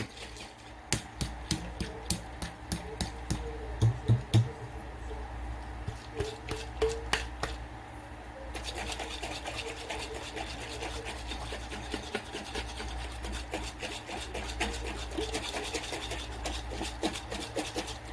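A bottle of homemade stain remover is shaken hard, its liquid sloshing while a hand slaps against the plastic in quick repeated knocks, louder in the first half and then a denser rattling shake.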